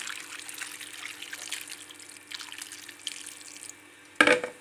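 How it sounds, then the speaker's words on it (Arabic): Boiling water poured from a container onto potatoes seasoned with vinegar and spices, a steady close splashing trickle with a brief louder splash near the end. "هننزل بالميه المغليه دي معانا على البطاطس كده زي ما انتم شايفين اهو"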